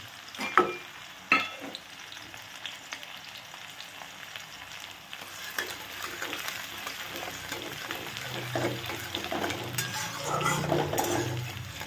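Garlic frying with black cumin seeds in hot oil gives a steady close sizzle, with a few sharp utensil clinks early on and the frying growing fuller and louder toward the end, no talking.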